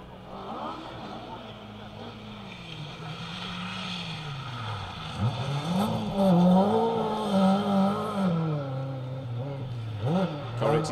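A Ford Escort Mark II RS 1800 rally car on a Welsh forest stage roars past at a historic-class event, its engine note rising and falling through gear changes from mid-distance, with voices over the top.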